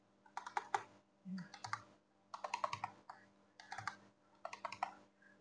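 Fingers type a password on a computer keyboard in short bursts of quick key clicks separated by brief pauses, faint and close, with no speech.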